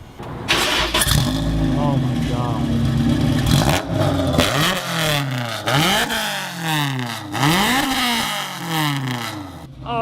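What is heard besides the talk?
Nissan R35 GTR engine revving through custom straight-pipe exhaust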